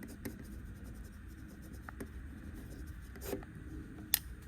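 A gray marker scratches and squeaks across a surface in soft, irregular strokes, faint and close, with a sharper tap near the end.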